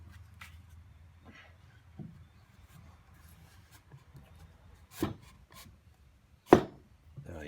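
A rounded Douglas fir tenon being fitted into a mortise for a large reclaimed outdoor table, soft scraping and rubbing of wood with a few sharp knocks and thumps near the end, close and fairly quiet.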